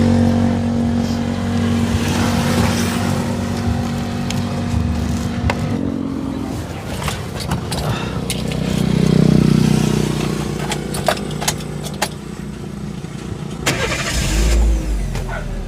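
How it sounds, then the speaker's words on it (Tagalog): A car engine cranks and catches after a jump start with battery cables, then keeps running with a loud, rough idle and a few revs, close by. "Ayan, umandar na po."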